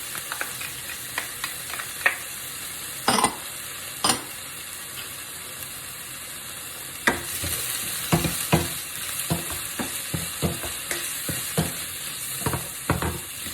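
Onions and garlic fry in a pan for aubergine lasagna, a soft continuous sizzle under repeated scraping and stirring knocks, busier and louder in the second half.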